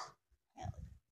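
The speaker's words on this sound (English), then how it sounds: "the dog is all stirred up here" A dog stirred up in a room makes brief, faint snuffling grunts in the background, one short burst followed by a longer, rougher one.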